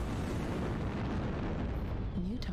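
Artillery strike explosions in the MechWarrior video game, a continuous dense roar of heavy blasts and rumble that fills the whole moment, with a voice briefly heard near the end.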